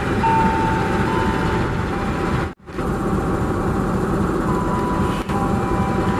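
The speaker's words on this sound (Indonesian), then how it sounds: "Ini dia kereta api Argo Wilis berhenti luar biasa di stasiun Cibatu ya" Argo Wilis passenger train at Cibatu station, a loud continuous rail rumble with wheel hum and a sharp brief drop in the noise partway through, close by.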